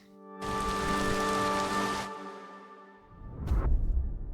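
Rain falling in the LOK word-puzzle video game, a steady broadband hiss over a sustained tonal music bed for about two seconds, then a softer rustling swell with a brief bright whoosh near the end.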